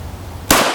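A single loud, close gunshot from an FN Five-seveN pistol with an EFK Firedragon 7-inch barrel cracks suddenly after a brief quiet lead-in.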